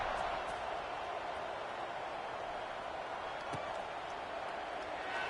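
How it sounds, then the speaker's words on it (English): Stadium crowd in the College Football 25 video game, buzzing after a score, a steady, dense roar of massed voices filling the whole stretch at an even level with no breaks. "this crowd is buzzing after that last score"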